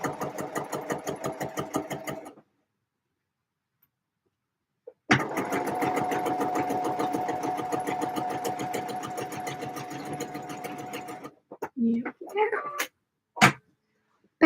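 A sewing machine runs a seam on a basic skirt, a fast rhythmic mechanical chatter in two long bursts separated by a silent pause, ending with a few short clicks and bumps.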